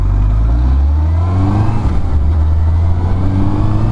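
A Yamaha Thundercat 600R motorcycle being ridden, its engine loud and close, accelerating with revs climbing through the gears under heavy wind rush.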